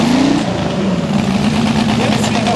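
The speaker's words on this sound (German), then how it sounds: "So, und die Motoren werden gestartet." Loud modified tractor-pulling engines roaring and revving at a tractor pulling event in Krumbach, with a rising, droning pitch, a voice talking over the din.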